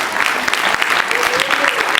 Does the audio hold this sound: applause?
yes